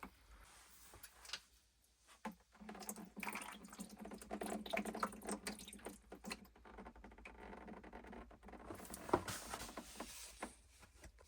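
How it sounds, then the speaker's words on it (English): Water draining out of a Vitapur VPS1140-1 UV water filter housing into a bucket after the pressure is released, a steady close pattering trickle with small irregular splashes throughout. "I'm just going to release the pressure in here. Just let all the water drain out."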